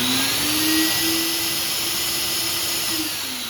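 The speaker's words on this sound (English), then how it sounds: "you're going to hear the vacuum kick on." A SurfPrep POV-8 shop dust extraction vacuum starts up, its motor whining steadily and loudly with a droning hum that holds at lowest speed, then begins to ease off slightly toward the end.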